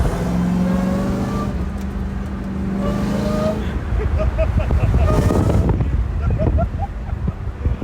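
Inside a moving car, engine drone and road rumble fill the cabin, with a tonal whine in the first few seconds, then rougher, louder road and wind noise as the car picks up pace.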